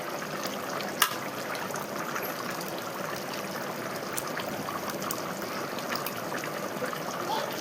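Chicken pieces boil in a pot on a gas stove for a Sunday special, giving a steady, continuous bubbling and simmering that holds at an even moderate level throughout with no voices.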